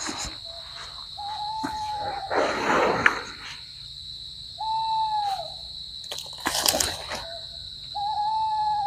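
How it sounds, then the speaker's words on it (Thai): Eerie bird calls ring out repeatedly in a quiet night setting, sustained tonal cries separated by short pauses, with a steady insect drone in the background. "นกร้องน่ากลัวอยู่นะ เสียงของมันน่ากลัวนก"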